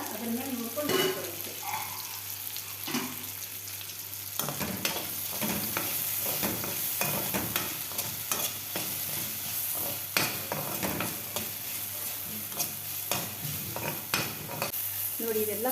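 Tomato sizzles steadily in hot oil while a spoon scrapes and stirs the pan in irregular bursts, close and prominent with no talk.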